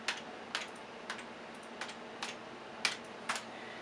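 Keystrokes on a computer keyboard as a short terminal command is entered on a Raspberry Pi setup: seven separate taps spaced irregularly, near and moderately quiet, with no talking.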